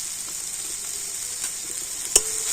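Ginger with turmeric, coriander and cumin powders frying in a pan, a steady soft hiss of sizzling oil with faint scraping stirs and one sharp clink near the end.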